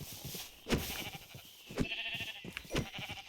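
A Minecraft sheep gives a brief bleat among rapid clicking footsteps and block sounds from the game, fairly close and steady.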